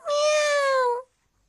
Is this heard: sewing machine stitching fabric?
no